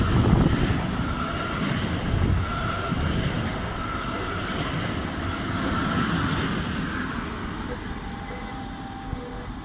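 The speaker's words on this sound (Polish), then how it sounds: "Wjeżdża pociąg Regio, relacji Poznań Główny, Świnoujście Port." A regional passenger train rolls into a station with a loud, steady rumble of wheels on rails, a faint squeal and a hum of carriages, with brief background talk.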